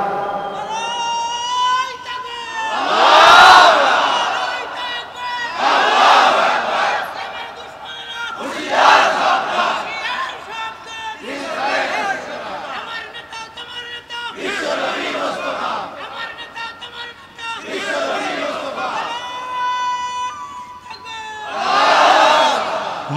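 A large outdoor religious gathering in Shyamnagar answers with repeated loud collective takbir shouts, about seven bursts of massed voices rising and falling every few seconds, with a leader's voice prompting between them.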